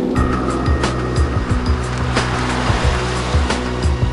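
A Lamborghini Murcielago LP460 V12 roars steadily under hard acceleration, a loud, dense, continuous engine drone with rushing wind and road noise, close and without talk.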